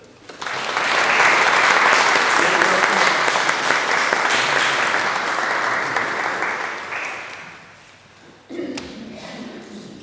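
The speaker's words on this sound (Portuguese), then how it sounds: "Uma salva de palmas aos eleitos." A congregation at a Catholic Mass in a sanctuary church claps together in a sustained burst of applause that slowly fades, followed by a brief spoken voice.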